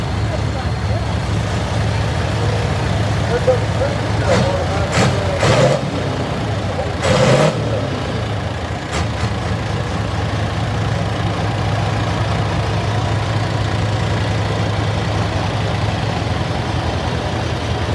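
A tractor engine runs steadily at a low idle at a steam and gas show parade, with a few brief knocks and clatters over the drone and faint voices in the background.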